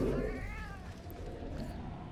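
A cat in the video game Murdered: Soul Suspect gives a drawn-out, wavering meow over a dense, steady game background with a low rumble.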